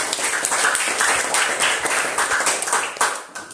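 Children and a teacher applaud together in an Indonesian primary school classroom during a teaching practice lesson, a dense, steady patter of hand claps lasting several seconds at close range.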